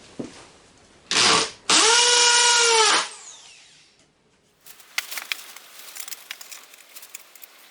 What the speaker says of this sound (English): Put your second screw in.